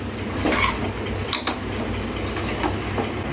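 Curry meat is stirred in a pot on a home stove, the spoon scraping and clinking against metal in a few irregular strokes over steady background hum.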